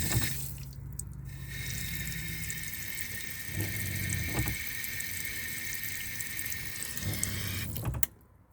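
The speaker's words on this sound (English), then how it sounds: "the pump was going like on and off, on and off, on and off all the time" Running water from a faucet in a van with a water pump's low motor hum cycling on and off in short bursts, ending abruptly near the end.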